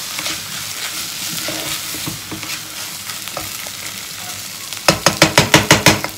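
Peppers sautéing in a pan while lentil soup is being made, a steady sizzle with scraping stir strokes, then a run of sharp rhythmic clatters near the end, close and fairly loud with no talk.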